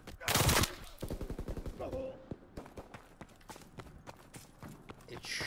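Pistol fire in a first-person shooter gun game pops in quick, evenly spaced shots, with a loud burst at the start followed by a long run of sharp reports at moderate volume, while a player talks now and then.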